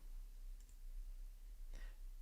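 Two quiet mouse clicks, one near the start and another just before the end, over a faint steady background hum.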